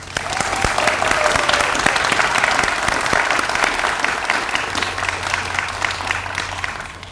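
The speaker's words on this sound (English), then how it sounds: "Let's give a huge round of applause to Luther and Betty Vogel." A large audience at a building naming ceremony breaks into loud, dense applause that stays full and steady from start to finish, with a low hum beneath it.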